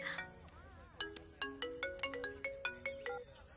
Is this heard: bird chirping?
no